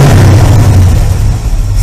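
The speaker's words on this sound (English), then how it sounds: "watch this, how I blip the throttle" A carbureted car engine fitted with an electronic ignition upgrade runs loud and close, holding a steady low rumble for about two seconds, with only a slight dip near the end.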